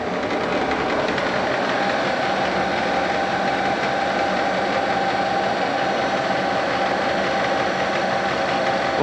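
A lathe motor running on a frequency converter with slack V-belts hums steadily at high speed, a loud, even mechanical drone with constant whine and no pauses or voices.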